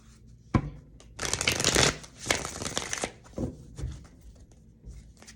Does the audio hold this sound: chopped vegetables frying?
no